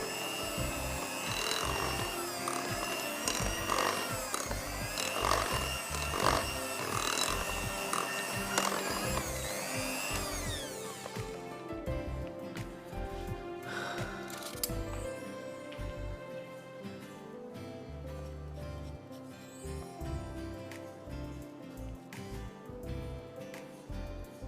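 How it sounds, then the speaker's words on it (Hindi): A spoon or whisk scrapes and rubs around a bowl as cake batter is mixed, a rhythmic, gritty stirring that is loud and close for about ten seconds before giving way to quieter, softer sounds. "मैं इसको मिक्स कर रही हूँ"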